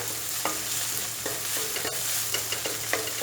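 Crushed paste, the base of a potato masala for puri, sizzling in a pan, with a dense frying hiss and several quick scraping stirs in a short burst.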